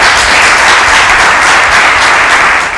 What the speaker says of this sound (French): Merci Aude Cabré, qu'on va applaudir très fort.